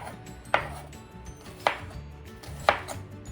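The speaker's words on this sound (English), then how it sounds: "Now I'm going to chop up the onion." A knife chops an onion on a cutting board in three sharp, evenly spaced thuds about a second apart, each one close and distinct over a quiet kitchen background, with no talking.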